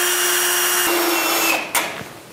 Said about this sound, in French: je peux visser tout simplement